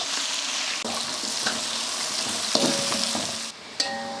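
Three quarters of a kilo of onions sizzle in hot oil with cinnamon, cloves, cardamom and stone flower for a large chicken biryani, a steady close frying hiss broken by stirring clinks and scrapes.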